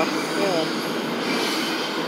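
A Norfolk Southern intermodal freight train runs northbound close by, its wagons rolling past in a steady, loud rumble with a faint wheel squeal, continuous for the whole stretch.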